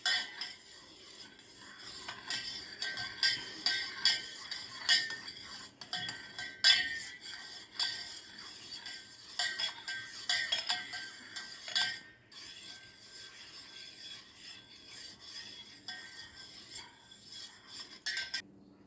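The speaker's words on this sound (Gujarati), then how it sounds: "ખાંડ ઓગળી જાય ત્યાં સુધી મિક્સ કરવાનું." A spoon stirs sugar into fennel sharbat in a glass, with soft, continuous clinks and scraping against the glass, quiet and close, repeating for much of the stretch.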